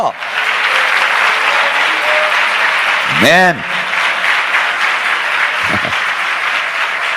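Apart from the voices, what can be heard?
congregation clapping hands while praising God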